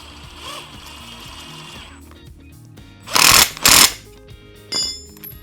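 Power tool, likely an impact driver fitted with a 19 mm socket, tightening a bolt fitted with a spring washer: two loud, close bursts of rattling hammering back to back, then a shorter third burst, each separated by quiet.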